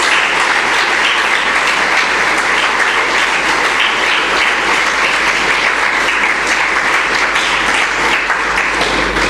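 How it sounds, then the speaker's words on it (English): Dense, sustained applause fills a hall after the Caribbean Development Bank's William G. Demas Memorial Lecture, a large audience clapping loudly and evenly with no talking. "a warm, rousing round of applause"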